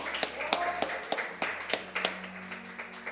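A church congregation at a Bible study claps in praise, with sparse distinct hand claps landing unevenly over a low hum, fairly close and moderate in volume.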